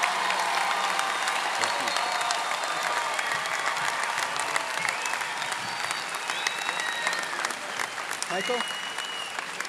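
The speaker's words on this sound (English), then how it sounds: "Join me in applauding the graduates of the Division of Business, Mathematics, Engineering, and Technologies." A commencement audience at a county college graduation applauds its graduates with sustained, loud clapping and some crowd noise, while a voice speaks briefly near the end.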